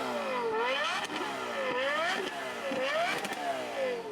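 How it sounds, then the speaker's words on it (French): Lexus LFA V10 engine revving in rapid repeated sweeps, each climbing and dropping quickly in pitch in a rhythmic, howling pattern, loud and close with no talk. "ce V10 est capable de passer de 1000 tours minute, soit le ralenti moteur, à 9500 tours minute en"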